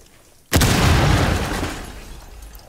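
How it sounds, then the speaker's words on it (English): In the video game Rainbow Six Siege, a sudden loud explosion bursts out after near quiet, its rumbling blast slowly fading over the next two seconds. "That was a big explosion."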